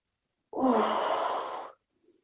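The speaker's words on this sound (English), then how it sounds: "Somebody has their speaker on and they're breathing a little too hard." A single heavy, breathy exhale lasting over a second comes through an open speaker on a live one-weight workout call, fairly close and loud, followed by a faint trailing noise.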